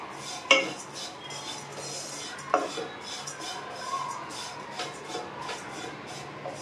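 Dry vermicelli (semiya) roasting in a pan and being stirred, giving soft continuous scraping and rustling with a couple of sharp utensil clicks against the pan near the start, close and fairly quiet, no talking.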